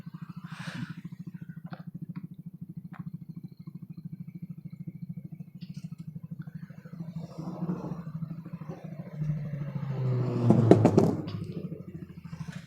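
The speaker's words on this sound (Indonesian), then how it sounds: "Udah suara knalpotnya." A motorcycle exhaust idles in traffic with a low, even throbbing pulse, then swells briefly into a louder rev near the end before settling.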